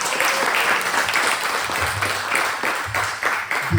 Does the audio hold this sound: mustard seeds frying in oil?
no